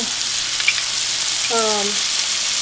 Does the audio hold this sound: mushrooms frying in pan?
yes